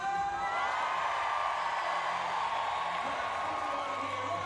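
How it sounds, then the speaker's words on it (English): Arena crowd at a London 2012 Paralympic wheelchair basketball game cheering for Great Britain, a steady dense roar with whoops that holds at an even, loud level throughout. "Who is cheering for Japan? And who is cheering for Great Britain?"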